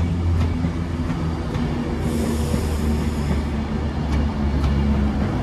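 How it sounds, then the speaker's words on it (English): Avanti West Coast Pendolino electric train departing a station platform toward London Euston, a low steady rolling rumble with faint higher hiss and brief squeals. "out goes the other Avanti West Coast service going to London Euston from Glasgow Central"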